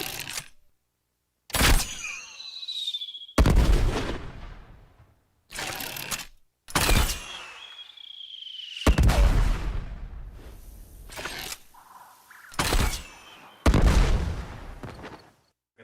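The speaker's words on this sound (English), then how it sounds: "Then at the end of the draw, there's a latch. Then there's the shot." A sequence of Warframe weapon sounds: a mechanical bow draw with ratcheting clicks and a latch, then a sharp shot, a whizzing projectile and a booming explosion, repeated several times.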